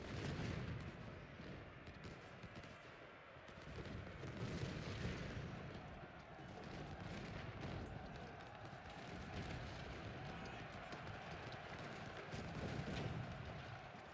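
Cannon fire in a Ultimate General: Civil War battle on a bottleneck map, with continuous rumbling booms and battlefield din rolling on throughout, dense and steady with occasional swells, no talking.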